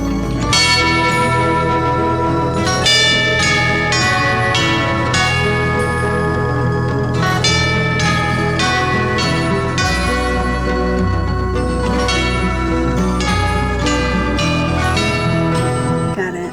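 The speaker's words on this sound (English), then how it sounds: "the last one is the tubular bells" Tubular bells ring out in a steady series of clear metallic strikes, each tone sustaining and overlapping over a low droning backing, loud and resonant.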